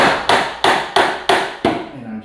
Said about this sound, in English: I have some PVC pipe and a hammer.